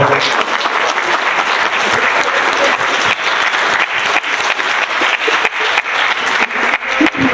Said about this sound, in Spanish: a la doctora Miriam García Piedras, para quien pido un fuerte aplauso, por favor.